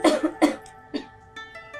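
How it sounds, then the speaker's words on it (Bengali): A child ill with a cold after splashing in a pond coughs nearby in several harsh bursts, with short gaps between them and quieter rasping sounds afterward. "3 দিন ধরে কাশি, সারা রাত ধরে কাশতে কাশতে একটু ঘুমাইতে পারে না"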